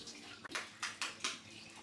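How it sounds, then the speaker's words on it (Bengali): Running water in a bathroom, a few bursts of splashing or pouring in quick succession at moderate level, with no talk over it. "পানি, পানির শব্দ।"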